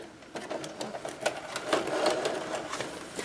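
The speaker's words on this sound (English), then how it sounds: "I decided to just do a straight stitch since I had the polka dotted material." Sewing machine running a straight stitch through a thick polka-dot oven mitt, a close, slightly uneven mechanical chatter of needle strikes lasting a few seconds with no voices.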